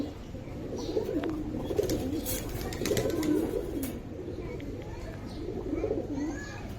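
A pair of small-headed chila pigeons coo in repeated low, rolling phrases, close by and steady throughout, with faint background noise and no voices over them.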